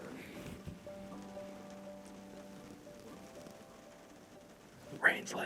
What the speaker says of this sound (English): Rain's letting up a little bit finally.